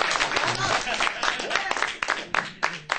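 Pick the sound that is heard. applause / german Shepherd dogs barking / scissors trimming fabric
applause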